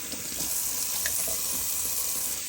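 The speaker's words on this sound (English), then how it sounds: "And do a nice cold water rinse." A tap runs steadily with cold water for a rinse during a wet shave, giving a continuous close splashing hiss into a sink throughout, with no talking.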